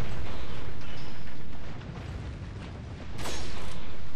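Rifle fire in the Resident Evil 4 video game, a dense roaring blast of gunfire that drops away briefly and then returns with a sharp crack, loud and near throughout.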